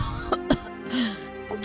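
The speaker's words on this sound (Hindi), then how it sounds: "ये कैसी खांसी है?" A short cartoon cough, two quick hoarse bursts followed by a softer rasp, close and clear in a Hindi animated story.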